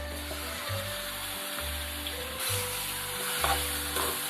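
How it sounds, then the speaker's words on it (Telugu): Marinated chicken, seasoned with salt, turmeric and chili, goes into a pan of red-fried masala and sizzles steadily and loudly up close, with stirring scrapes and a low musical backing underneath. "ఇప్పుడు కలిపి పెట్టుకున్న చికెన్ దీంట్లో వేసేస్తున్నాను"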